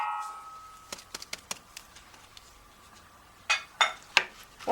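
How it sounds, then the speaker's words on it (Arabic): Sugar is tipped into a bowl of creamed ghee for ghoriba butter cookies, with a few light clinks of cup against bowl, then louder knocks and clatters near the end. "هحط كوباية السكر"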